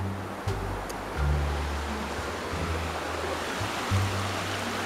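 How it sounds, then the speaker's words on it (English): Creek water flowing steadily along a slippery mountain trail, a continuous broad rushing wash with low rumbling underneath, close and fairly loud throughout with no voices. "There's the creek."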